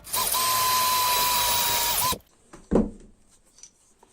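An electric drill with a 6.5 mm bit bores a through hole, whining loudly and steadily for about two seconds before stopping, followed by a sharp knock and faint handling clatter.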